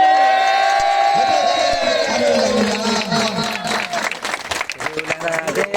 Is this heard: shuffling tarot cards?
no